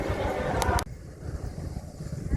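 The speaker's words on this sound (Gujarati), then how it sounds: "વાવાઝોડું જબ્બર ચાલુ થઈ ગયો" A strong windstorm roars against the microphone in heavy gusts with rain and blowing sand, loud at first and then dropping suddenly to a lower rumbling buffet that keeps surging.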